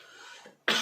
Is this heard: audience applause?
no